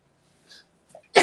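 A single abrupt sneeze bursts out at the end, preceded by faint breaths and small throat sounds, close and loud against near silence.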